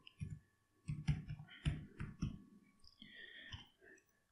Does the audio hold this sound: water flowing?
no